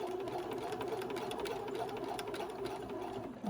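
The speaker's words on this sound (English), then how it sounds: "Now we're going to send our hole down through this machine and stitch that hole shut again." A sewing machine stitches a hole shut in fabric for a newborn elf outfit, running at a steady fast whir with a continuous mechanical hum, faint and uninterrupted.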